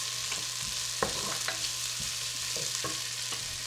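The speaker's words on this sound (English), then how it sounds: "And then we can add our ginger. Just mix them all together." Ginger and spices sizzle steadily in a frying pan while a utensil stirs them, giving soft scraping taps over a constant hiss and low hum.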